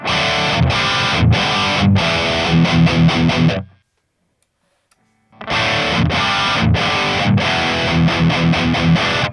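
A distorted electric guitar played through an amp modeler plays chunky riffs and chords, stops for about a second of silence, then starts playing again, loud and up close.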